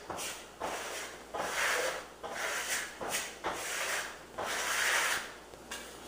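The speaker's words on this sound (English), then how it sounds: "just kind of coming back in and smoothing over some areas" Quiet repeated scraping strokes of a trowel smoothing a second pass of Venetian plaster over a dried first coat on a wall, each sweep a soft rasp separated by brief pauses, close and without talk.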